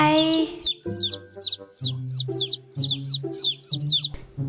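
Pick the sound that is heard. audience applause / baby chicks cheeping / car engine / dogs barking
baby chicks cheeping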